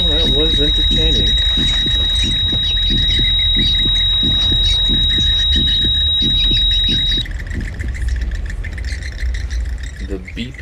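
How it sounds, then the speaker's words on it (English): A continuous high-pitched electronic alarm tone in the game Layers of Fear sounds for about seven seconds over rhythmic thumping and low background noise, then cuts off. "The beeping noise was a little too annoying"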